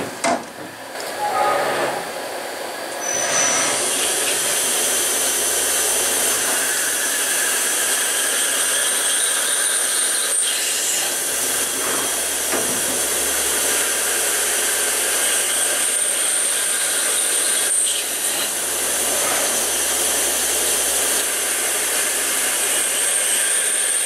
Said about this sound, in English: We're going to be drilling some holes.